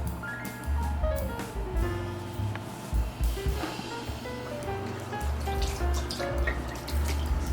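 A Japanese washlet bidet runs its pre-wash spray, a steady close hiss of water with some tonal hum underneath, continuous throughout with small fluctuations.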